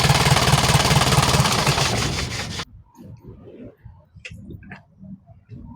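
A car engine that had been flooded runs loud and steady for a couple of seconds, then cuts off abruptly, leaving faint ticking and low rustling.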